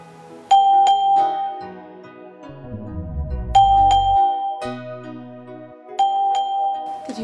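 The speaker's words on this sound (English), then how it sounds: "Did you hear the doorbell?" A doorbell chimes with a two-tone ding-dong three times at steady intervals, clear and fairly loud, with a quiet low hum between rings and no talk.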